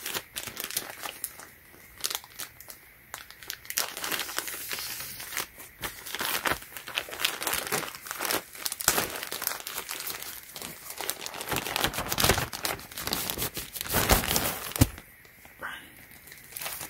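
Plastic packaging from a Supreme x Burberry tee order is cut and torn open, giving close, loud crinkling and rustling with sharp tearing bursts that run on for several seconds.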